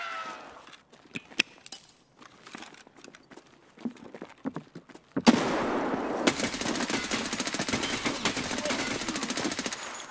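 An RPK light machine gun fires in the Escape from Tarkov video game: scattered sharp shots and clicks come first, then a loud, dense, sustained burst of automatic fire takes over for the second half.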